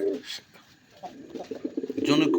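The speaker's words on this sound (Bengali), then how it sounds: "আর নরের ডাক কি দেখছেন, একবারে সেই ডাকে।" A big-sized male desi golla pigeon gives soft, close cooing calls, a brief coo at the start and a fuller rolling coo near the end, with someone talking in between.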